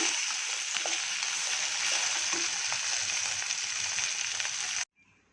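Okra frying in a pan after a tempering of fenugreek and other seeds, a steady close sizzle with small crackles that cuts off abruptly near the end.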